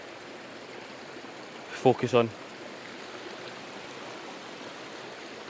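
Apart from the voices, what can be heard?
small waterfall and stream at Ben Lawers Dam, Scotland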